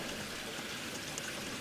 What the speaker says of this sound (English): Okay, now it will be filling the water.